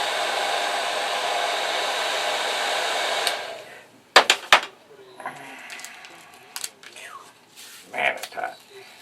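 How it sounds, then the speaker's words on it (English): Industrial-strength heat gun blowing a loud, steady roar as it is used to burn the coating off a monocoat iron, then cutting out, followed by a few clunks and quieter handling noises. "I guess I could get out my industrial strength heat gun and burn the thing off"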